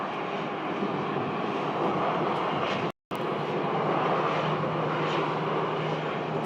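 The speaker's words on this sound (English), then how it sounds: "So they are doing some engine run tests over there." An airliner's engine runs through a ground test at Phoenix Sky Harbor Airport, its cowl left open, giving off a constant broad roar from across the field. The sound cuts out for a split second midway, then resumes unchanged.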